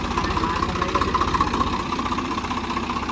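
A tractor engine runs steadily close by, a low throbbing idle with a regular pulsing beat that holds even for the whole stretch, with no talk over it.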